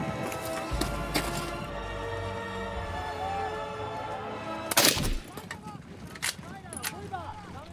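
Gunfire in a war scene from the film Fury, with a couple of sharp, loud bursts of shots breaking through a low, steady rumble and background voices.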